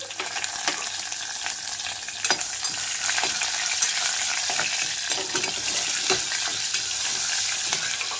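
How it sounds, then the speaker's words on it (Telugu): Cumin seeds, a bay leaf, cardamom, cloves and cinnamon frying in hot oil on a stove for jeera rice, giving a loud continuous sizzle with scattered crackling pops, close and alone without voices. "జీలకర్ర చిటపటం అనేటప్పుడే ఇందులోకి బిర్యానీ ఆకు, అలాగే యాలుక్కాయ, లవంగా, దాల్చిన చెక్క కూడా వేస్తున్నాను."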